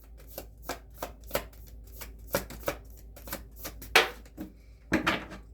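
Tarot cards shuffled and dealt on a table, a series of crisp riffling snaps and soft flicks at irregular intervals, close and fairly quiet with a faint steady hum underneath.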